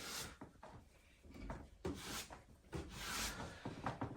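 A cloth wipes excess stain off wood, making soft, faint rubbing and brushing strokes in irregular passes, close by with no talk.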